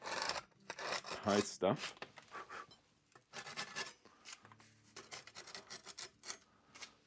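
A screwdriver picks and scrapes at a handmade concrete tree stump during detail carving, giving close, dry, irregular rasping bursts with pauses, while a voice talks briefly.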